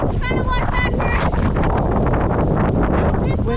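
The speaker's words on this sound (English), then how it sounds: "Super windy." Strong wind buffets the microphone in a New York City snowstorm, a loud continuous roar with gusts throughout, while voices talk over it.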